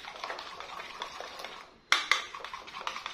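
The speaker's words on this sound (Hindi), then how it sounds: "थोड़ा जहा सी चिली सॉस ऐड करांगे, मिक्स कर लांगे" Chili sauce stirred for loaded fries: a spoon scraping and clinking in a bowl, with soft steady stirring, a short pause and then a few sharper taps, close by and without talk.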